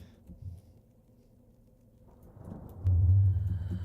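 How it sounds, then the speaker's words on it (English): Deep thunder rumbles during a storm in a video game, starting faint and low, then swelling into a heavy, loud roll near the end. "I always love the sound of lightning."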